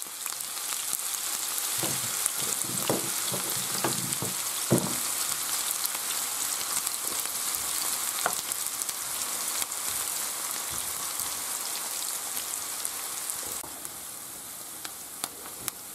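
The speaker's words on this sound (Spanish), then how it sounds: "y ahora echamos la cebolla. Y se tiene que rehogar." Chopped onion sizzles and fries steadily in hot oil with browned garlic, a constant close crackle with a few louder stirring clatters near the start.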